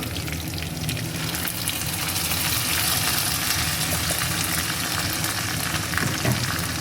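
Ground paste of onion, coconut, cashew and tomato sautés in hot oil in a pan, a steady, dense sizzling hiss that runs close and continuous with a few soft stirring scrapes.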